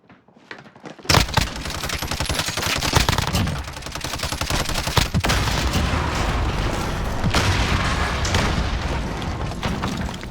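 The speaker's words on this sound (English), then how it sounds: "A lot of explosions going off." Dense, loud barrage of explosions and rapid gunfire from a shooter video game in an esports tournament match, with booms and automatic bursts layered continuously after a brief quiet opening.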